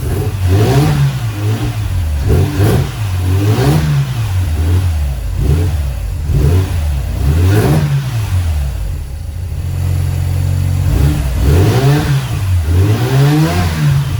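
A Mazda RX7 13B rotary engine with dual pulleys is warming up, revving repeatedly in steady rising and falling swells, close and loud with no one speaking.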